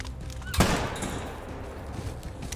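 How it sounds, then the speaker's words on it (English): A single loud gunshot cracks out near the start in a mountain lion hunting video game, its boom decaying into a lingering rumble that fades over the next two seconds. "We got all kinds of gunshots up in here."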